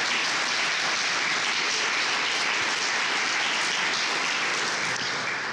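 Sustained applause from a large audience at the 2019 Leibniz Prize award ceremony, a dense, steady wash of many hands clapping that fills the room without pause or break throughout.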